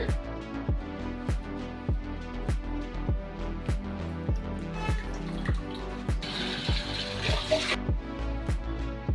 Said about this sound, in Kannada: ಇದು ಕಡುಬಿನ ಪಾತ್ರೆ ಇದಕ್ಕೆ ನಾವು ನೀರು ಹಾಕ್ಕೊಳ್ಳೋಣ